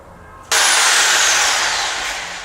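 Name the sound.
rotary hammer drilling during floor installation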